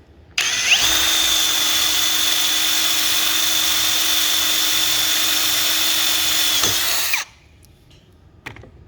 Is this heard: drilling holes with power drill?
yes